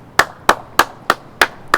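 Six sharp hand claps spaced about a third of a second apart, close by and fairly loud, ringing out in a kitchen after chipa guazú, a Paraguayan corn cake, has been baked and tasted.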